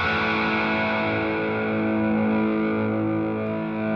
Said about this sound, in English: Scrolling up, bit of crunch.